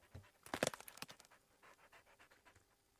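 A dog pants rapidly and quietly nearby after running in the Carpathian countryside, quick breathy huffs in a steady rhythm after a brief louder burst.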